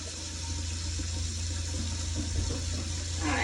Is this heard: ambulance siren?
no